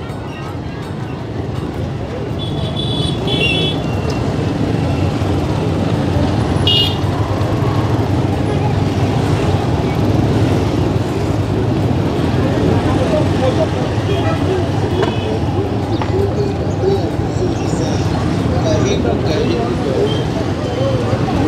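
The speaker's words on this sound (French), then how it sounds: "La circulation ici est vraiment intense." Heavy traffic on a narrow street in Goma's Madjengo neighbourhood, a loud, steady roar of engines and passing vehicles with occasional horn toots, continuous and close throughout.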